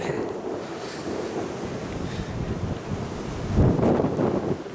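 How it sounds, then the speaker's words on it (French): Steady gusts of wind buffeting the microphone outdoors near a castle on a promontory in Switzerland, with a stronger rush near the end and no voices. "Et vous pouvez entendre le vent"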